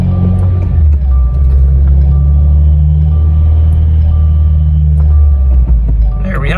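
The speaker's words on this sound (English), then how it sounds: "So you can see here it goes through all the gears." Mitsubishi Evo transmission running through all its gears while the car sits on a lift, a loud, steady low drivetrain rumble and whine with shifting tonal steps and small clunks near the end.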